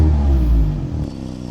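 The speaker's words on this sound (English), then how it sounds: "When the engine starts," A cold car engine catching and revving up, then settling into a lower idle rumble, close and loud for a brief moment.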